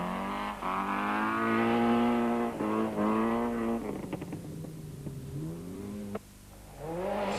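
A two-wheel-drive Class A Volkswagen Golf rally car revs hard on a mountain trail, the engine climbing and dropping through gear changes, loud and close, then fading to a lower pitch before accelerating again.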